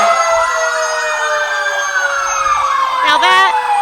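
Rockwood Fire's fire truck siren wails loudly and close by in a Christmas parade, a slowly falling tone with a short burst of yelping near the end, joined by a low truck rumble.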